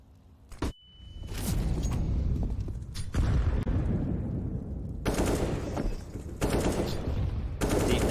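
Grenades burst in a Counter-Strike match on the Inferno map during a PGL Major Stockholm 2021 game. A sharp crack comes first, then rolling, booming blasts and heavy bursts of gunfire fill the rest, loud and dense.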